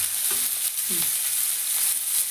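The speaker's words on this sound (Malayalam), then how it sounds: "ഉള്ളി നല്ല വാടി സെറ്റായി വരുന്നുണ്ട്" Sliced onions frying for a Kerala-style boti (tripe) fry, sizzling in hot oil with salt and fennel seeds, a steady hiss with a few soft stirring knocks near the start, no talking.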